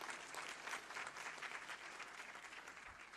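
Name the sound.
audience applause welcoming chief minister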